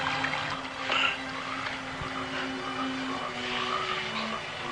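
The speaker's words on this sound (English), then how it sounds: "Hear those frogs croaking?" Frogs croak in a dark outdoor setting at dusk, their calls faint and scattered over a steady low ambient hum. A few louder croaks stand out near the start and the end, with no one speaking.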